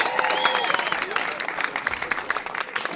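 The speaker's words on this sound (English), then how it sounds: "And the crowd roars." A concert crowd at a Megadeth show roars and claps, with broad cheering and scattered clapping that swell then break into sharper bursts, while nearby voices shout over the noise.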